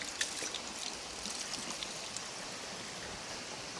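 Clean, cold spring water flows from the forest near Kakkayam dam in Kozhikode, a soft, steady trickling rush with faint splashes, continuous and fairly quiet.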